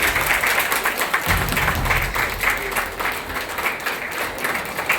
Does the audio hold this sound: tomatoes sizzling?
no